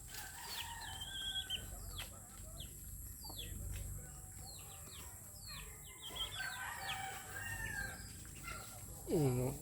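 Chickens cluck and squawk in short, scattered bursts close by, with faint background noise and a brief louder call at the end.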